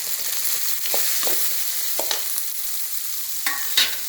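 Bitter gourd stir-fries in oil in a pan with a continuous sizzle, broken by a few sharp scraping and stirring clatters, close and without talk.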